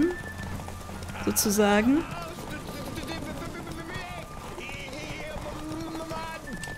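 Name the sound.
horse galloping in video game The Witcher 3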